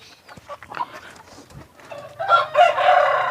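Free-range village chickens clucking and a rooster crowing nearby, growing louder toward the end with several birds calling over one another.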